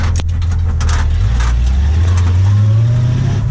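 A 1935 Ford car driving and accelerating, its engine droning loud and close with the pitch climbing steadily as it picks up speed, road noise underneath and no talking.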